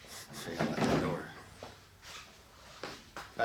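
A heavy titanium race car door swings open and thuds shut nearby, followed by a couple of lighter clicks.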